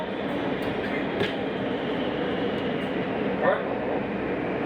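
A WMATA Alstom 6000 series metro train rolls steadily through a station on the Green line level, a constant rumble of wheels and motors with a couple of brief squeals, while people talk nearby.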